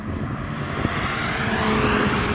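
Loud, steady engine roar from cars accelerating flat out in a drag race between a VW Golf, a BMW and an Audi RS3. The drone builds slightly and is heard alone, without talk.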